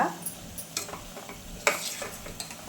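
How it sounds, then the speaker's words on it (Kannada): Vegetables fry in oil while a spoon stirs them in the pan for a coconut curry served with ghee rice, giving a soft sizzle broken by a few sharp scraping clinks, close and moderately loud. "ತರಕಾರಿ ಸ್ವಲ್ಪ ಎಲ್ಲ ಎಣ್ಣೆಲಿ ಫ್ರೈ ಆಗಲಿ ಸ್ವಲ್ಪ"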